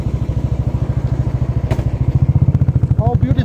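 Motorcycle engine chugging on a hill road near a deodar estate in Uttarakhand, with a steady close thumping idle-like pulse throughout and a voice speaking briefly near the end.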